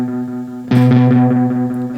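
A loud electric guitar chord struck through a vintage-style delay pedal with the intensity set high, ringing on with a dense wash of echo repeats trailing behind it and no talking.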